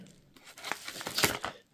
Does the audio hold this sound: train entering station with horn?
no